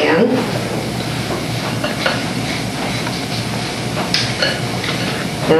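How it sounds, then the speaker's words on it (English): Cookie dough with brown sugar, white sugar and shortening is stirred and mixed in a bowl, giving a steady, close scraping and churning sound with occasional louder knocks of the utensil, with no talking over it. "Now, you mix that up as thoroughly as you can."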